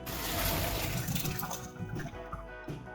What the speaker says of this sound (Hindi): अब जल्दी से हम इसका पानी ड्रेन कर लेंगे।